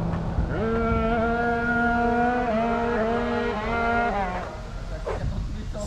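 A 96cc Bidalot WR dragster motorbike engine runs at high revs with a buzzing two-stroke-like whine that climbs and shifts in pitch over several seconds before dropping away, loud and close, no talking.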